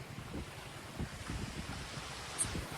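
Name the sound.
sea waves at Alang shore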